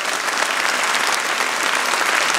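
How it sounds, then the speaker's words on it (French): A hall full of people at a mayor's New Year address in Marseille applauds steadily, a dense, even wash of clapping with no voices over it. "Continuez d'applaudir parce qu'on va continuer."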